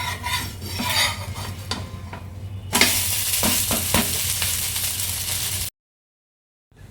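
Sanna polo fries on a pan with oil: a steady sizzle broken by scraping and tapping from a spatula against the pan, which swells louder midway before a sudden silence.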